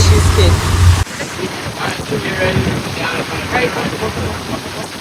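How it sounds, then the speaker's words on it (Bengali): Heavy rain pours with a loud, steady broadband rush at sea off Crab Island, America, close to the microphone, with wind buffeting and some background voices. "বৃষ্টি এত জোরে শুরু হয়ে গেল"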